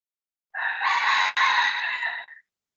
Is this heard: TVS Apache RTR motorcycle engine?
no